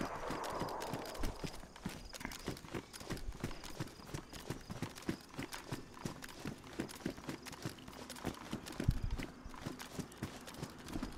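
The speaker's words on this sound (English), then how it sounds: "Footsteps." A player running in a PvP shooter game with revolvers, a rapid, steady patter of footfalls over a constant background hiss, close and alone without speech.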